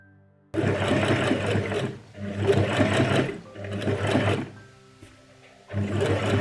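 A sewing machine stitches the front panels of a 1910 Belle Époque-style chemise, running in steady bursts of rapid whirring with brief pauses between seams, close and loud.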